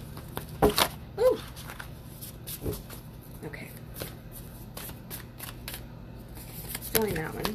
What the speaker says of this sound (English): I feel like it needs one more shuffle, so I'm gonna go ahead and do that.